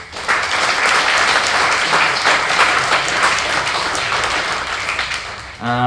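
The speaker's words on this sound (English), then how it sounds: "So give them a round of applause." A seminar audience applauds the presenters with a loud, lively burst of clapping that holds steady for several seconds before a voice resumes at the end.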